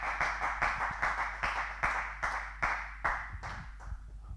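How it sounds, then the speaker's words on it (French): Audience at a Kinshasa music show clapping for a musician, a steady run of rhythmic hand claps at moderate distance that fades slightly toward the end. "On applaudit, on applaudit, on applaudit."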